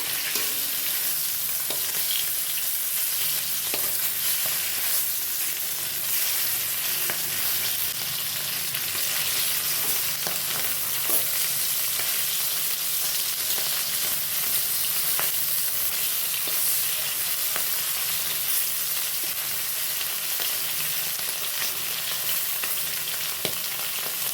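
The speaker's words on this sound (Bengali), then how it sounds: "মাছের এক পিঠ ভাজা হয়ে গেছে, এবার উল্টে দেওয়া হচ্ছে অপর পিঠ ভাজার জন্য" Fish fries in a pan for fish curry, a loud, continuous sizzle with a dense hiss that holds steady throughout, broken by faint clicks as the pieces shift.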